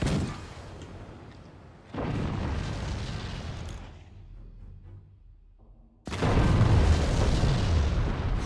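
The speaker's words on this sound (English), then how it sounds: "Cannon 3, fire and hit" Cannon volleys and explosions in the strategy game Forts: deep booming blasts in three loud bursts, with a quieter rumbling stretch between them and the heaviest barrage at the end.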